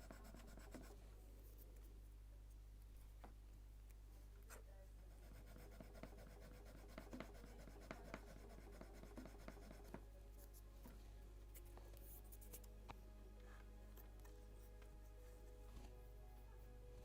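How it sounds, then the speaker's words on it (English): Fine sanding on the wooden hull planking of a model Mayflower ship, a quiet dry scratchy rubbing in short irregular strokes, close but faint over a steady low electrical hum. "More sanding."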